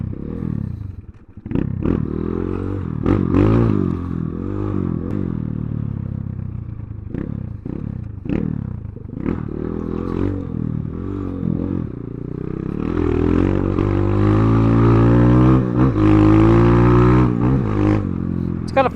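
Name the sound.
Kayo K2 230 dirt bike air-cooled 4-stroke engine riding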